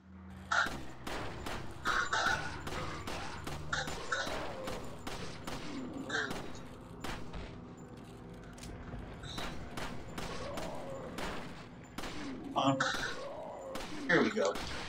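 Repeated gunfire in Resident Evil 4, sharp shots scattered irregularly across the stretch, some in quick clusters, mixed with game effects while a person talks over much of it.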